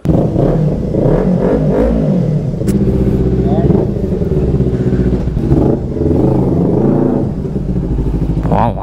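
A Kawasaki Ninja ZX-10R sport motorcycle engine revs loudly and repeatedly up close, rising and falling in pitch, with someone talking over it.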